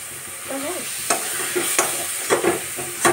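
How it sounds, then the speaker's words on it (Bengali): A sweet mixture is stirred in a pan over the heat until dry, with a steady sizzle and repeated scraping strokes of the spoon at roughly even intervals, close and clear with no talking. "এটা এবারে ভালো করে একটুখানি নেড়ে চেড়ে নিতে হবে। একদম শুকনো শুকনো করে নিতে হবে"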